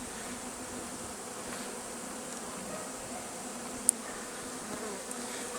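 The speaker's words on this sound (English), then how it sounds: "You can see this hive is fending off robbers." Honeybees buzz at a hive entrance while the colony fends off robber bees in early fall, a steady faint drone with one brief sharp tick partway through.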